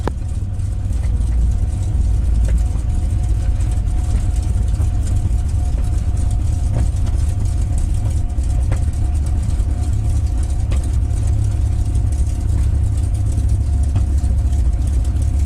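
A P-51 Mustang's piston engine idles as the plane rolls along the runway after landing, a loud, continuous low rumble that stays steady from start to finish.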